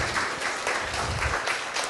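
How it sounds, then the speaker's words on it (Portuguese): Brief applause at a ceremony celebrating a foundation's initiative, a short burst of crowd clapping heard at moderate level with no clear talk over it. "Forte aplauso para a grande iniciativa aqui de Fundação Provista."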